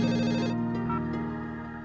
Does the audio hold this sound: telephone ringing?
yes